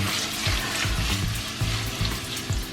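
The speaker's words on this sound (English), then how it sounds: "I'm going to add in the ginger, followed by the red chilli. Going to let that sweat out for a little bit." Ginger and red chilli sweating in oil in a pan for a chicken tikka curry, a close, continuous sizzle with soft bubbling and low rumbling knocks throughout.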